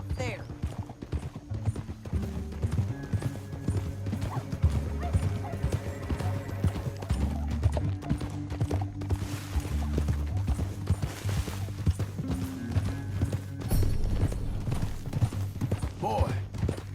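Horses galloping in the Red Dead Redemption 2 video game, steady rhythmic hoofbeats with a mechanical clatter of tack and a low rumbling music bed continuing throughout.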